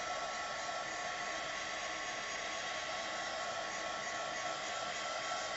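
A heat tool blowing steadily to dry ink on a birthday card, a constant close whooshing hum with no variation and no voices.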